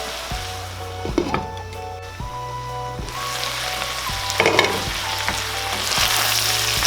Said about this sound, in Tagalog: sisimmer lang po muna natin ng mga ilang minuto para mas medyo maluluto pa po yung ating atay at saka yung heart ng baka